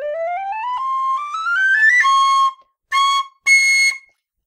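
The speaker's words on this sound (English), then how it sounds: "Easy third octave D on the C whistles as well." A brass or nickel Killarney C tin whistle climbs in a quick run up to a piercing high third-octave D, then plays two more short, bright high notes alone.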